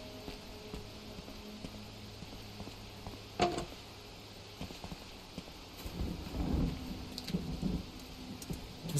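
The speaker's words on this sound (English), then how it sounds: "Is this supposed to be thunder?" Thunder in the video game Silent Hill: Downpour, a faint, distant crack followed a few seconds later by a low rolling rumble over a quiet, rainy ambient background.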